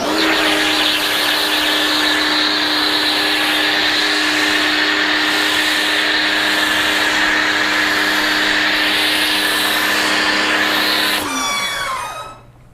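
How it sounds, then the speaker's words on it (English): A Ryobi pressure washer runs steadily at close range while spraying a foam cannon, a continuous loud motor whine with hissing spray, cutting off abruptly near the end and winding down. "Got the pressure washer ready to go using my Ryobi pressure washer as always."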